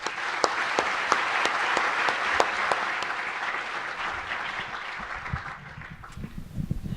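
Warm audience applause welcoming a lecturer to a talk on the Egyptian Revolution, dense steady clapping with a few sharp individual claps, gradually fading as a voice begins at the end.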